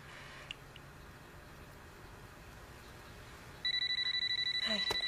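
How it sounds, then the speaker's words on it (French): A telephone rings indoors, starting late as a loud electronic trilling tone in repeated pulses that cut in abruptly after a quiet stretch of room noise. "Le téléphone n'a pas sonné tout l'après-midi, puis là, juste au bon moment."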